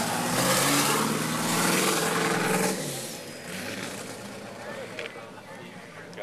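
Ford GT40 Mk IV race car engine idling at low speed, a loud, rough, throbbing rumble for the first few seconds before it settles to a quieter murmur, with voices talking over it.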